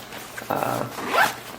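Zipper on a Black Diamond Magnum 20 backpack being pulled in two quick, close strokes, a short rasping zip followed by a brighter, rising second pull, loud and alone.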